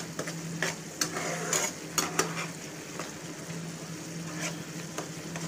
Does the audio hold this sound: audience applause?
no